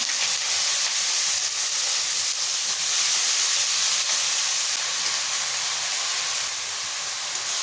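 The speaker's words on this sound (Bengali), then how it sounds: "কিছুক্ষণ ভাজতে থাকবো।" Snake gourd strips frying in hot oil with whole cumin seeds make a steady, loud broadband sizzle and hiss that holds evenly throughout, with no talking.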